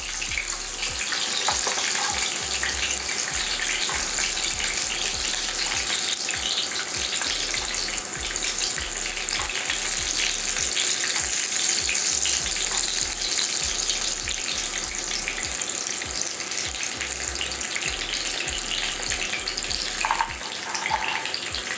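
Salmon fillets frying in oil in a large frying pan, giving a steady bright sizzle and crackle that runs unbroken throughout at close range, with no talking.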